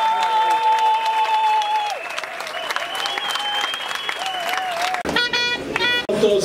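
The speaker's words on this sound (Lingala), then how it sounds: "vous adresser une salve bien nourrie d'ovations et d'applaudissements" Party members at a UDPS political assembly break into sustained applause and ovation, dense clapping mixed with crowd noise and a few cheers and whistles near the end, loud and continuous throughout.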